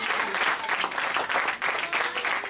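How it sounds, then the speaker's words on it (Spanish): A church congregation applauds the Lord during a sermon, steady dense clapping from many hands filling the room, moderately loud and continuous without pause. "Denle un aplauso al Señor."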